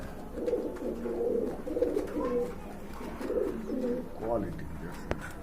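A pair of khaki pigeons at a pigeon farm cooing in repeated low, rolling phrases, close and steady over faint background noise.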